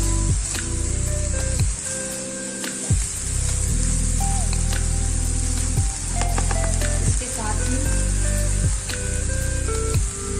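Rice stir-fried with vegetables and egg sizzles loudly in a pan, a dense continuous hiss broken by repeated spatula scrapes and tosses every second or two, with a faint tonal hum in the background.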